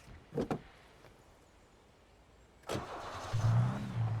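Car in the Alan Wake Remastered video game: two quick door-like thumps, a quiet pause, then a burst as the engine starts and settles into a low steady rumble.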